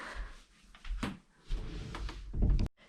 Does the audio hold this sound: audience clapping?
no